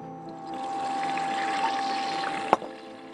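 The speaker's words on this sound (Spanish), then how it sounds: "Vamos a poner ya el vinagre" Vinegar is poured steadily into a pot for escabeche, a continuous close liquid stream with a soft clink near the end and no speech.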